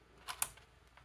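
A small plastic tab on a ThinkPad W541 laptop is flipped up, giving two quick, light clicks close by in a quiet room, followed by a faint tick.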